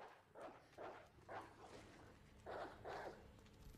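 A dog barks in the game Resident Evil 2 Remake, a faint, muffled series of barks coming in quick rhythmic pairs over low background noise.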